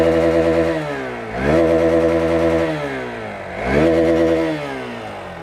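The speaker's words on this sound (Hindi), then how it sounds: "तो कुछ इस तरह से ये बाइक जो है साउंड करती है" A Hero Xpulse 200 4V Pro 200cc motorcycle engine revs twice, each burst rising sharply then slowly falling back, with a rough, throaty exhaust note close by and no talking.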